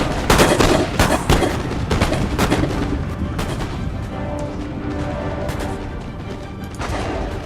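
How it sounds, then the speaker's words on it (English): Musket volleys and gunfire from a battle between US troops and Huron warriors in Empire Total War, a dense roar of overlapping shots and booms, loudest at the start and rolling on steadily with no talk. "Firing into their backs."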